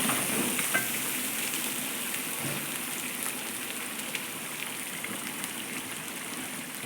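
Kashmiri chili powder and a little pickle powder frying in oil over low heat for a kanthari chili pickle, a steady soft crackling sizzle throughout with occasional faint clinks.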